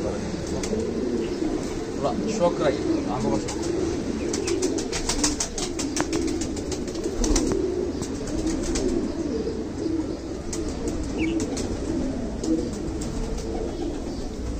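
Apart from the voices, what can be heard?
pigeons cooing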